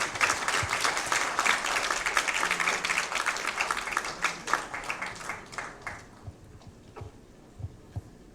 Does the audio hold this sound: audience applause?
yes